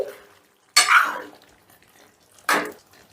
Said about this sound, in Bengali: এবারে সমস্তটা একটু মিশিয়ে দিচ্ছি